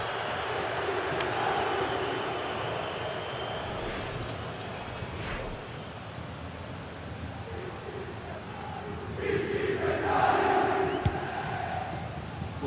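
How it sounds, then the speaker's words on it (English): A stadium crowd in a football video game roars in a broad, continuous wash of noise that swells louder near the end, with a commentator talking over it. "The crowd certainly think so. Just listen to that noise."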